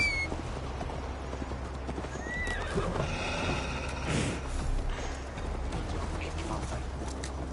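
A horse gallops with rhythmic clip-clop hooves and a whinny in the video game Assassin's Creed Valhalla, close and steady beneath a voice.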